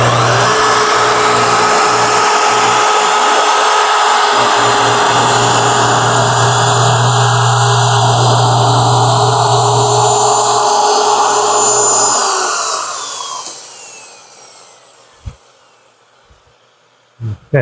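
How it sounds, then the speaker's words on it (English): A track saw cuts deep through a thick wooden slab, a loud sustained high whine with motor hum for about twelve seconds, then spins down and fades to near silence, followed by a couple of knocks. "that's as deep as we can get with a track saw"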